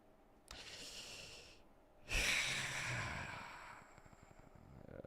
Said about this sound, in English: so I can blow my nose